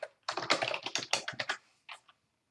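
Typing on a computer keyboard, a quick close run of crisp key clicks followed by a brief pause and two final taps.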